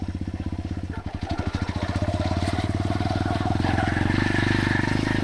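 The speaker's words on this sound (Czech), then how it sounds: "Teď jsem to trošku dusil, tu motorku chvilku" A pitbike motorcycle engine is revved near the listener, giving a steady, rapid, rough putter that builds slightly in loudness over a few seconds.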